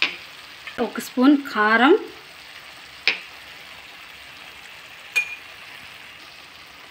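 Spices such as turmeric and chili powder fry in oil for a paneer curry, a soft steady sizzle with a few light clinks while someone speaks briefly.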